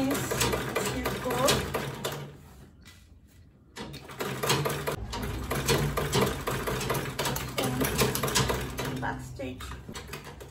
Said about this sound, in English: I'll sew this part.